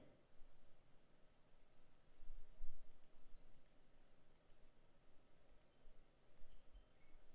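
A computer mouse clicking, about six sharp, faint, close clicks spaced irregularly over quiet room noise.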